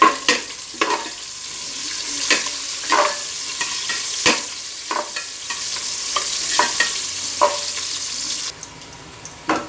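Garlic and onion fry in a pan for a Kapampangan mung bean dish. A steady sizzle runs under repeated scraping stir strokes, with a brief watery run near the end and no talking.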